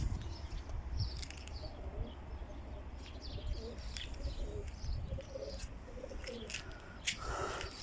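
Doves or pigeons in a dovecote, low soft cooing repeated under a steady outdoor hum, with scattered chirps from other birds at a middle distance.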